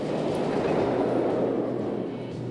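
A roller coaster train in RollerCoaster Tycoon 2 rolls along its track with a steady, loud, dense rumble and faint clatter that holds evenly before easing slightly at the end. No voices are heard.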